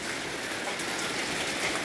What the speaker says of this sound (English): Just waiting for the rain to stop.